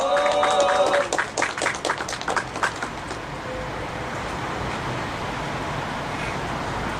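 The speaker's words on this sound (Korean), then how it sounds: "박수로 모시겠습니다." An audience at a candlelight labor-union rally applauds to welcome the next speaker, a burst of clapping with a few sharp individual claps up front, then settling into a steady crowd murmur and background hum.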